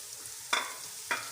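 Ginger garlic paste with garam masala fries in a pan for chicken matar pulao: two brief stirring scrapes cut through a faint, steady sizzle, close and quiet, with no talking.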